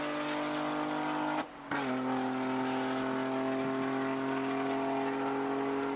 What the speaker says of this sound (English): That's how loud that car is.